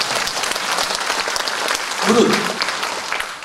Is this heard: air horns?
no